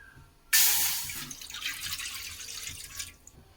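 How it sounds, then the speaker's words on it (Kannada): Water splashes into a pan on a gas stove, starting with an abrupt, loud gush that settles into a steady pouring stream before trailing off, close by with no talking. "ಈಗ ನೀರು ಹಾಕ್ಬಿಟ್ಟು ಸ್ವಲ್ಪ ಕುದಿಯಕ್ಕೆ ಬಿಡೋಣ"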